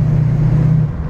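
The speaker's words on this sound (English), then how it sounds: "this beautiful noise this car makes from that V8 engine" A 1965 Ford Mustang Fastback's V8 engine runs with a steady, deep, throbbing drone, loud and close throughout, with no voices.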